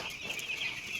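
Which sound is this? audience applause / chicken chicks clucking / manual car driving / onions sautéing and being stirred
chicken chicks clucking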